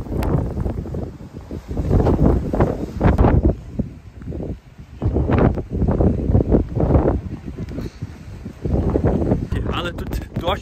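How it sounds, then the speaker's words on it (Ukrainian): Strong gusty wind on coastal cliffs in a volcanic national park in Hawaii buffets and roars across the microphone in surges, with a person talking underneath at times. "Тут такий сильний вітер."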